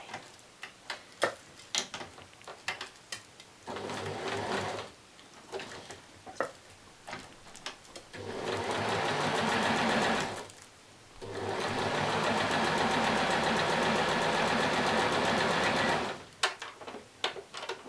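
A sewing machine stitches fashion doll tights on a small stitch setting, running in bursts of a few seconds with pauses and light clicks and handling noises between the runs.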